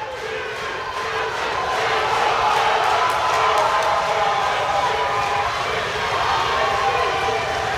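A crowd at the IPF powerlifting world championships roars behind a lifter in the 93 kg class. The cheering swells and holds as a loud, sustained wall of voices, with a commentator talking over it.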